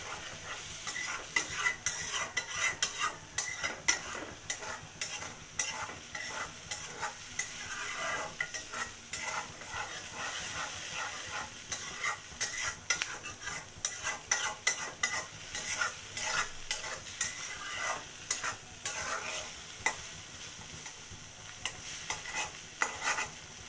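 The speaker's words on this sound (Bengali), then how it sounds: "মাছের ডিমটা দিয়ে দিয়েছি, এখন নেড়ে নেব ভালো করে" Constant sizzling of rohu fish roe frying in a pan with frequent scraping and clinking of a utensil as it is stirred, close and busy throughout.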